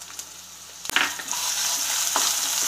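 Finely chopped onion dropped into a pan where green chili is already frying, a sharp burst of sizzling that settles into a steady crackle with a few stirring clicks.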